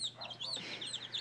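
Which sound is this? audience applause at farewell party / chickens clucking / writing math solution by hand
chickens clucking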